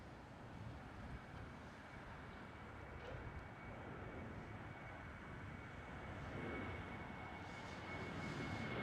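KLM Boeing 737 jet at Amsterdam Schiphol, a steady broadband engine roar with wind noise, holding fairly even and building slightly toward the end, heard from some distance.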